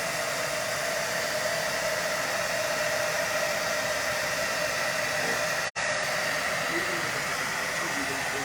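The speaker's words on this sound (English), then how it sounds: "this heat gun is just kind of jump starting it" A heat gun blowing hot air in a kitchen gives a steady, loud, even rushing hiss that holds throughout, with one momentary dropout near the end.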